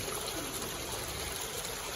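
Water pours steadily from a pipe into a fish pond on a fish farm, a constant trickling stream heard close and loud, with no talk over it.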